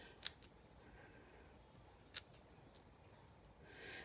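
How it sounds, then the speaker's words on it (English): Scissors trim the edge of a scrap of paper for card masking, giving a couple of sharp, close snips separated by quiet pauses with faint rustling between them. "I'm going to trim my edge to make my other"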